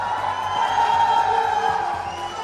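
Schoolchildren in an audience at an education conclave cheer and applaud steadily, a dense, continuous wash of crowd noise with shouts throughout.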